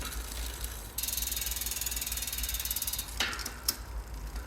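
Peugeot Premier bicycle with a friction shifter changing gears, a close, quiet run of rapid ratcheting clicks from the drivetrain, followed by a couple of sharp mechanical snaps as the chain settles.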